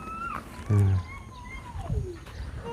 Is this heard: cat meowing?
yes